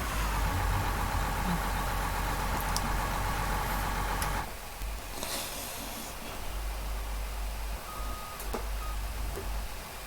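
A New Holland tractor engine from Farming Simulator 19 runs at a steady, low mechanical idle with a rough rumble, joined by a few brief clicks and small tonal blips, with no talk.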